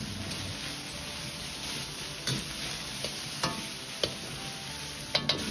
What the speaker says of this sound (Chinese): 再倒入控干水分的黄豆芽翻炒